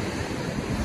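Sea waves at Digha beach make a brief, steady rush of surf mixed with wind buffeting the microphone, with no voices.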